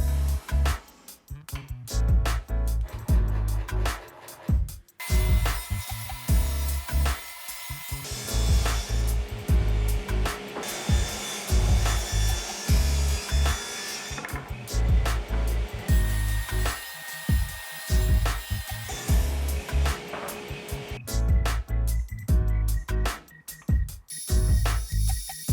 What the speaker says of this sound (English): I'm gonna take all the pieces over to my table saw, cut them down to the final dimension